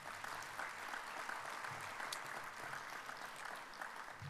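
An audience at a theatre season announcement applauds board members in attendance, a soft, even wash of many hands clapping at a distance, steady throughout with no voices over it.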